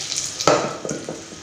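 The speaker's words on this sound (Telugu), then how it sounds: "ఇప్పుడు ఈ ఉడకబెట్టుకున్న పప్పు ముక్కలన్నీ పోపులో పోసుకున్నామండి" A brief splash of boiled dal poured into hot oil tempering with asafoetida, followed by a steady sizzle and faint stirring, with no voices.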